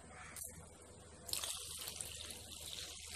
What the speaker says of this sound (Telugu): ఈ విధంగా కలిపి ఇందులో వాటర్ యాడ్ చేసుకోండి.